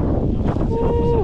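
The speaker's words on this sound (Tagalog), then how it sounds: "Malakas po talaga yung hangin dito." Strong wind outdoors in Taiwan buffets the microphone in a steady low roar, with a faint tonal whine near the end.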